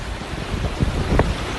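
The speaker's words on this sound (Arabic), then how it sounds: "هذه امواج" Floodwater churning through a Jeddah street during heavy rain, a rough rushing wash with a couple of stronger surging splashes near the end, close and loud over wind-like noise.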